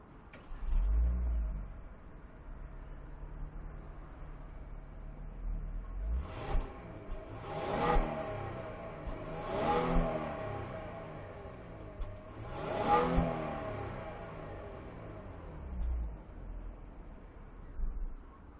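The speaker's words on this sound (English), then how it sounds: "I'll give it a rev for you in just a moment." A 2019 Kia Stinger twin turbo starts up from behind, then idles before several sharp throttle blips send the revs climbing and falling four times, followed by a settling idle, loud and close with no talking.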